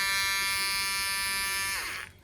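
An old rechargeable electric shaver buzzes steadily and close with a bright, dense hum, then winds down and falls quiet near the end of the short stretch.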